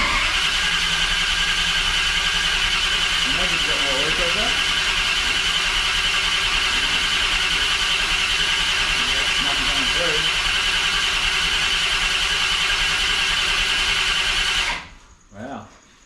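A turbocharged Holden V8 engine fires up for its first start and idles with a steady, loud, droning tone, then cuts off abruptly near the end while people talk over it.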